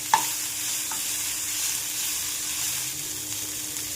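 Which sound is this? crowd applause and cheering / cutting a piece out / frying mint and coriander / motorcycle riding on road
frying mint and coriander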